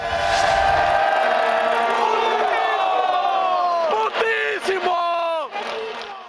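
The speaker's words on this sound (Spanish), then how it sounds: "Allí la afición empezó a gritarle al portero rival de la selección mexicana." Football stadium crowd at a Mexico national team match yelling in unison at the rival goalkeeper, a massive sustained roar of many voices rising and then breaking off into scattered shouts.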